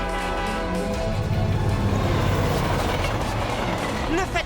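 A train rumbles past in an animated French show, a steady dense roar of rail noise with clattering texture holding loud for the whole stretch and no talk over it.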